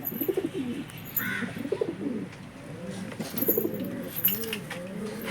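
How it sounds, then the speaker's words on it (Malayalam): Pigeons cooing inside a loft, including a white country pigeon: repeated low, rolling coos come in overlapping bursts, with a brief higher chirp near the start. "ഇതൊരു നാടൻ പ്രാവ് വെള്ളമാണ്"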